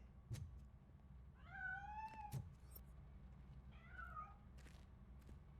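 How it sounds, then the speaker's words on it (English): A cat meows twice in the video game RoboCop: Rogue City, two drawn-out, rising-and-falling cries with a few soft clicks around them, fairly quiet against a low background hum. "That cat must be hiding inside."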